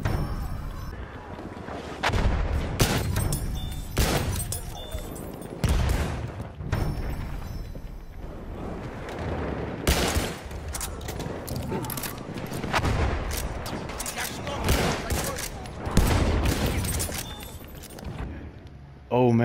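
Rapid bursts of machine gun fire and heavy explosions from a Battlefield 1 battle, loud and dense, with irregular volleys layered over distant booms; voices are heard in places.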